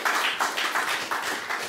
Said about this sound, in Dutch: Geef een warm applaus, Roxane van Ieperen.